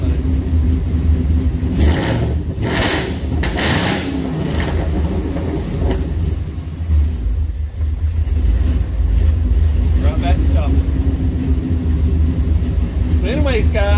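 Ford Mustang or F-150 V8 with a ghost cam tune idling in a choppy, loping rhythm after coming off the throttle, loud and near, with someone talking over parts of it.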